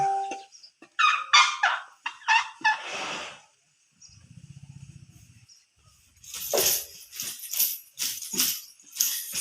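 Baby elephant calling out repeatedly, a series of sharp honking, squealing cries at close range, then a low rumbling buzz, then more loud bursts of cries, no talking.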